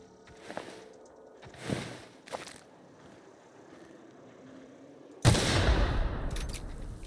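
Gunfire in The Outer Worlds video game: a few scattered shots early on, then a loud, sustained burst of rapid fire from about five seconds to the end.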